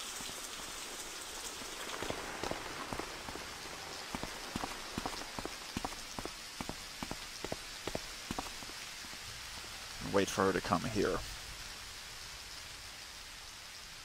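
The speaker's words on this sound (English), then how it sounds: "I do like the dripping rain from the corners and the eaves." Rain dripping from building corners and eaves in a stealth video game town, a steady wash of rainfall with a regular series of sharp drip ticks, then a brief louder burst near the end.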